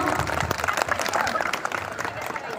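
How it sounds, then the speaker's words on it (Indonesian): Students clapping at a Monday school flag ceremony, a choppy burst of many hands that rises and fades unevenly over a couple of seconds, outdoors, with some voices mixed in. "Oke, tepuk tangan dulu dong."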